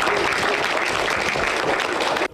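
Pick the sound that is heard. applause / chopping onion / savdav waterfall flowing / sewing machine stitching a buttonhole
applause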